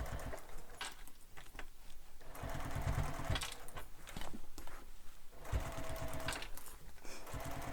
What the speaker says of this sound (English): So we're top stitching both long edges right now of the trim